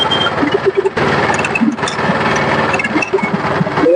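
A motorized sugarcane juice crushing machine at a roadside stall runs close by with a loud, steady mechanical whir and rattling, slight rhythmic variations as cane is pressed.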